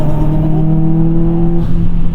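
A 2007 Subaru WRX STI accelerates with a loud, close exhaust note, its steady tonal drone climbing and shifting near the end as the engine pulls. No speech is heard over it.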